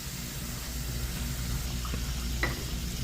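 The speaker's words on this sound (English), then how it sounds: "Let me just get me some bacon down inside of this pan." Bacon strips sizzle as they are laid into a hot frying pan, a steady, close crackling hiss with a brief scrape or clink near the end, no talking.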